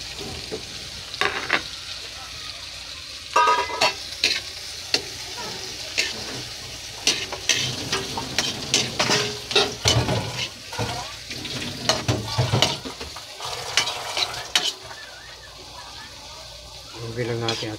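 Chopped tomato added to a frying pan of sautéed chayote and sardines, with bursts of sizzling and stirring scrapes in irregular clusters; a person talks at points through the cooking.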